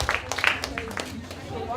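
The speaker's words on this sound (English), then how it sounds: "Can we have a round of applause for all of the performers that we had?" Applause for performers at a community event in Luton, thin scattered clapping mixed with voices, brief and fairly faint.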